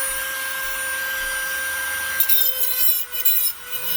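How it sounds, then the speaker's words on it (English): An angle grinder cuts up old bent valves pulled from a 1641 cc air-cooled VW engine, a steady whining motor tone with rough, rasping grit that grows harsher and more uneven toward the end, close and alone. "Grinding, cutting them up."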